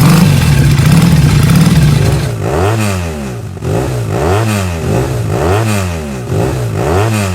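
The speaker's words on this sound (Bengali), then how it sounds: "এ দেখছেন ইঞ্জিনের ভিতরে কি একটা আওয়াজ দিতেছে?" A faulty car engine idles and revs in repeated rising and falling surges, loud and close, with a clattering, uneven tone running through each rev and no one speaking.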